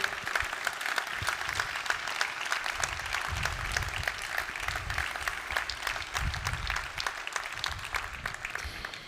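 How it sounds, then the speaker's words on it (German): A ceremony audience at the 2021 South Tyrol Autonomy Day event gives the guests of honour a long, dense round of applause, with many hands clapping evenly and fairly loudly throughout. "nochmals einen großen Applaus an unsere beiden Ehrengäste"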